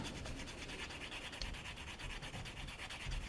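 Short rapid strokes of a finer-grit sanding stick smooth a plastic model kit part, producing a soft, close, steady scratching rhythm that runs continuously and quietly without speech.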